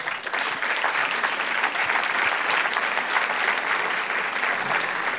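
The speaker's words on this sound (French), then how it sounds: "sous vos applaudissements" An audience at a public talk applauds as guests are called to the stage, a dense and even wash of many hands clapping, moderately loud and steady throughout with no voices.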